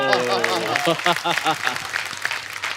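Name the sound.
studio audience applause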